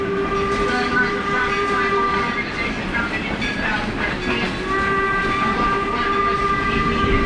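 A steam train pulled by locomotive number 1 rumbles past steadily with a long sustained horn tone over heavy rolling noise, loud and close throughout.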